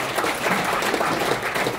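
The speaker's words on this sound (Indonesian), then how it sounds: "Tepuk tangan buat kita semua." Applause from a corporate anniversary audience at a bank event, a short burst of dense, loud, steady clapping.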